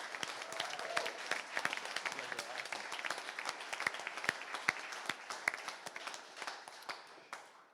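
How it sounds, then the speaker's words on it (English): An audience at a Senate campaign launch applauds the band. The crowd claps loosely and unevenly, with distinct individual claps standing out, and the applause thins gradually toward the end. "but let's give them a round of applause."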